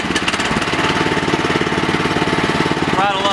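A small equipment engine runs after the choke is turned off, a loud, steady, rapid chugging close to the mic with a faint voice in the background.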